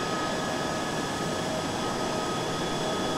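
Steady loud jet roar inside an aircraft as it lands on the runway, a dense continuous rumble and whine with no speech.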